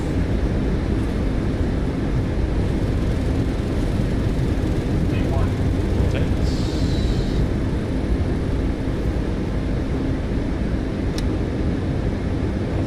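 Jet engines of a Boeing 737 MAX 8 at takeoff thrust in Microsoft Flight Simulator 2024, a loud, steady, broadband roar that holds without pause, with faint voices beneath.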